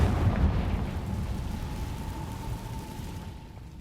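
A Confringo blasting spell explodes in Hogwarts Legacy, a loud rumbling burst at the start that trails off into a long, low, continuous roar with a faint steady tone running through it.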